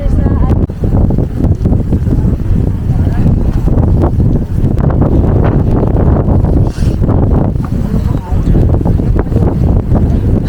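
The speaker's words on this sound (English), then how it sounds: "right now we are in the top of the mountain, and you can see that it is really very windy" Strong wind roaring across the microphone at the top of a mountain, loud, constant and buffeting, with gusty fluctuations throughout.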